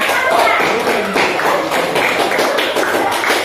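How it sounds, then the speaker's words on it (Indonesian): Loud, close clapping from students in a high school classroom, a quick busy patter of many hands that holds steady for a few seconds. "kasih tepuk tangan."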